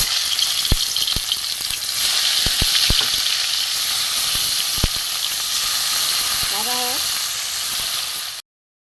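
Fish pieces frying in hot oil in a kadai, a steady loud sizzle and hiss with scattered sharp pops and spatters, plus a short wavering squeak near the end before the sound cuts off abruptly.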